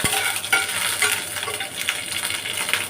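Green chillies and nigella seeds sizzle in hot oil while a spoon stirs them, a dense close crackle with scraping pulses every half second.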